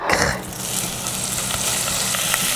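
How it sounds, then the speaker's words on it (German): Bacon sizzling in a hot pot, a steady crackling fry that holds close and fairly loud throughout, with no talk over it. "Man nimmt einen Topf und macht ihn heiß. Der Speck."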